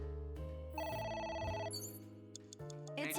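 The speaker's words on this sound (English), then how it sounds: "It's Agent ringing Dante, again" A phone rings in the video game AI: The Somnium Files with a melodic electronic ringtone, a short bright tune of a few repeating notes over game background sound, fairly quiet, with no speech.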